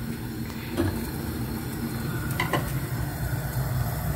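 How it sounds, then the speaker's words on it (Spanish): Cinnamon and cloves bubble in a pot of boiling water, a steady low simmering hiss with a few brief clinks and pops over several seconds. "por aquí ya está hirviendo la canela y los clavos"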